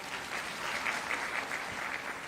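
An audience at a job appointment-letter ceremony in Lucknow applauds. The clapping is steady and dense, rather faint and distant, and lasts the whole stretch with no voices over it.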